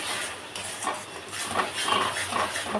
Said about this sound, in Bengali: এবারে আর একবার কষে নেবো